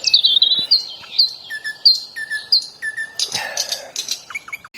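A young songbird chirps repeatedly up close, bright short tweets in a quick irregular rhythm, with a few buzzier notes near the end.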